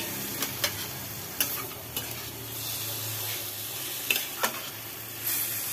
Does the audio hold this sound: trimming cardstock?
no